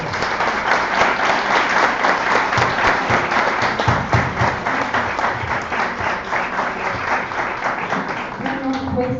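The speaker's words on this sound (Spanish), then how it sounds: "Muchas gracias y les pido un aplauso." Lecture audience in Mexico City applauding at the close of a conference talk, a continuous, fairly loud round of clapping from a seated crowd, steady for nine seconds with a few voices briefly audible near the end.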